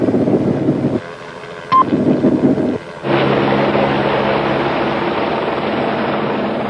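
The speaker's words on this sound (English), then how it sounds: "the helicopter has no problem in tracking him" A police helicopter hovers overhead while tracking a suspect in the UK. A short tone and a few abrupt cuts come first, then a loud, steady rotor drone takes over and holds to the end.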